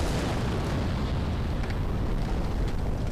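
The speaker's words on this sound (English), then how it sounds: "those explosions are really loud" Loud, continuous explosion roar from the video game Dark Souls, a dense booming rumble filling the whole stretch with no break and no talking.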